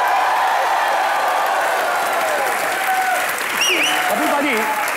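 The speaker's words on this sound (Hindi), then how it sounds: "तालियां." Studio audience applause on a Hindi comedy show set, a dense steady wash of clapping and crowd noise with a few whoops and whistles rising near the end, loud and continuous throughout.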